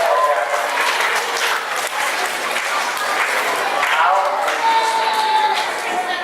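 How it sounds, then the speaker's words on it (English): A live comedy-show crowd in Leominster gives a performer a round of applause, loud sustained clapping mixed with cheers and voices throughout. "let's give him a round of applause anyway"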